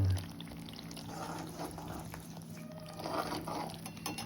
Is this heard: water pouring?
yes